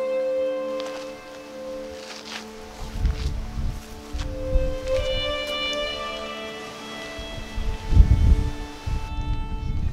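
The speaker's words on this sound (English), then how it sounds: "the wind is blowing at more than 100 kilometers an hour at this altitude of about 750 meters above sea level" Strong wind of over 100 km/h gusting across a Cathar castle hilltop about 750 m above sea level in Occitanie, France, rumbling in uneven low buffets with a steady tonal hum beneath and a loud gust near the end.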